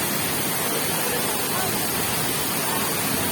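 Strong water flow at Balagbag Falls in Real Quezon makes a steady, loud, unbroken roar of rushing water that fills the whole clip with no pauses.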